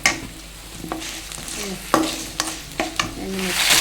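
Coriander seeds frying in a pan for pickle, with a close, loud crackling sizzle and several distinct scraping stirs against the metal spaced through the few seconds.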